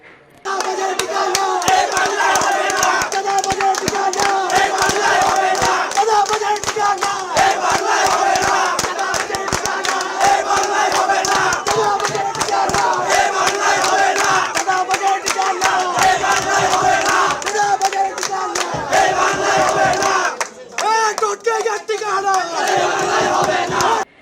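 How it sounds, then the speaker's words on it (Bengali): Rival groups of student coordinators in Bangladesh chant slogans against each other, a dense, loud crowd roaring rhythmic shouts continuously, with voices overlapping throughout and a brief dip near the end. "উভয় গ্রুপ তর্কে জড়ায় এবং পরস্পরের বিরুদ্ধে স্লোগান দেয়"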